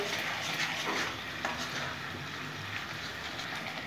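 Kashmiri chili powder being stirred into hot oil with turmeric in a pan while cooking a Bengali pomfret fish curry, giving a steady soft sizzle with scraping stir strokes throughout, close and moderately quiet.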